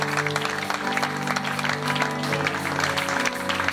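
A church congregation applauds and acclaims at an Easter Good Friday worship service, the steady clapping spread evenly and mixed with sustained music underneath.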